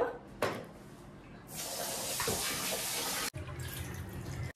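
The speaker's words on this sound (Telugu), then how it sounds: "ఫస్ట్ వీటిని నీట్ గా కడిగేసుకొని పక్కన కొన్ని వాటర్ వేసి నానబెట్టేద్దాం" Rice is washed in a vessel under running water, with a sloshing rush and splashing that swells to a steady flow, then briefly cuts out before resuming.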